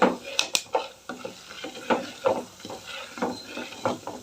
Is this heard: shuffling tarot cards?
no